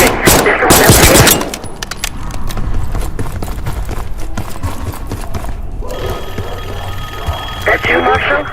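Loud bursts of rapid gunfire in the Call of Duty: Black Ops 6 campaign crackle up front, then give way to quieter game ambience with scattered clatter and voices talking.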